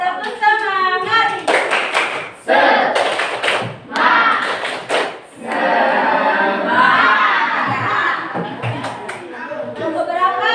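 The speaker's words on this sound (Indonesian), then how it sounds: "Ayo tepuk semangat dulu, supaya lebih semangat presentasinya sebentar" Classroom of students doing a rhythmic clapping chant, several sharp bursts of group claps in a patterned rhythm, then mixed clapping, chatter and voices, with the whole group close and loud.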